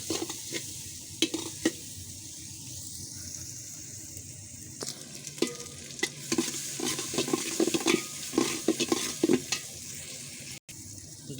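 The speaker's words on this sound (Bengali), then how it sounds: "পেঁয়াজ রসুন ঝালগুলো হালকা ভেজে নেবো" Onion, garlic and green chilies fry lightly over medium heat for egg vegetable khichuri, a quiet steady sizzle with frequent sharp scrapes and knocks of a spatula stirring against the pan, close up and without voices.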